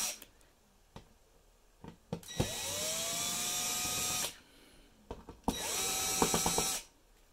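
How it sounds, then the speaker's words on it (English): A power screwdriver backs screws out of the bottom panel of an Intel NUC i7 10th generation mini PC, two sustained whirring bursts with a falling pitch at each start, separated by quiet handling clicks, close up. "We're going to go ahead and unscrew the bottom here so we can go ahead and pull this back panel off"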